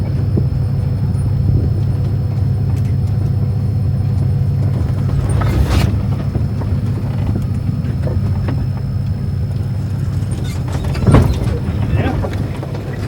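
A Jeep crawls down a rock drop on a Moab off-road trail, a steady low engine rumble throughout with a couple of brief scrapes or thumps, close and continuous.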